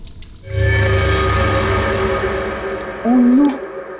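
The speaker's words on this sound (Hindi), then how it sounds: "बाथरूम में पानी बहने की आवाज आ रही है।" Water running in a bathroom, a steady wash of flowing water that holds through most of the moment, with a brief high squeak or whine near the end; no talking.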